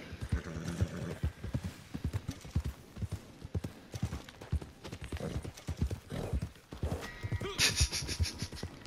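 An Arabian horse gallops in the video game Red Dead Redemption 2, its fast, rhythmic hoofbeats pounding up close with occasional snorts and a whinny.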